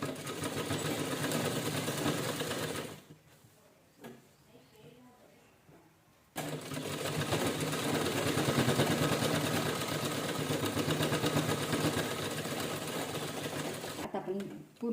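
A sewing machine stitches a lining onto the main fabric of a cloth organizer, a fast, steady whirring run that stops for a few seconds of quiet handling and then resumes for a longer stretch.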